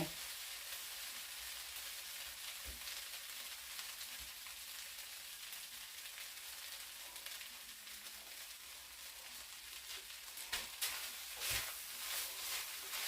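Holy basil leaves tossed into a sizzling pad kaprao stir-fry: a dense, steady hissing fry throughout, soft and close, with occasional stirring knocks against the pan and no talking.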